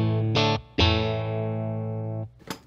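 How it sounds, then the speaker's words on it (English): Electric guitar run through a FlyRig multi-effects pedal with its blonde gain section off, near breakup: two struck chords, the second ringing out long and steady before cutting off, then a brief scrape of the strings. "So this is without the blonde part of the pedal engaged."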